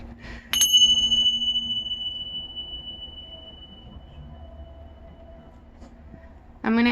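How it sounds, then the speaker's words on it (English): A loud bell strikes once and rings on in a long, clear tone that slowly fades over several seconds in a quiet room, then a second sharp, bright strike bursts in at the end. "The bells are gonna be loud, so either disconnect the headphones or turn down the volume"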